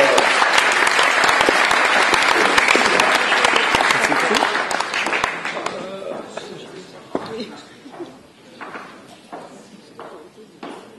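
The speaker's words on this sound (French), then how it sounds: "Merci, on peut applaudir." An audience applauds a prize winner at an industrial award ceremony, loud, dense clapping for about five seconds that thins into scattered claps and footsteps as it dies away, with voices speaking.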